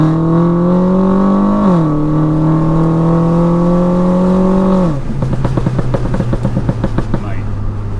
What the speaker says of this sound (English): Mate, that on throttle noise, it's just superb